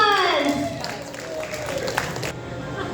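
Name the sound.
audience applause for artists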